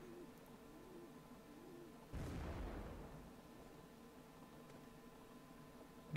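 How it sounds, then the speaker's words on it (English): A single cannon shot in a Napoleonic Wars battle game, a sudden loud boom that decays into a long rumbling tail before the field falls back to a quiet steady hiss. "that was very unsuccessful cannon fire"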